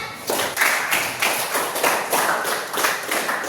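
Clapping in a classroom after a student presentation, a few loud, fairly sparse rhythmic claps from a small group of students, close by and with no voices over it.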